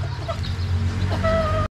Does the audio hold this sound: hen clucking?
yes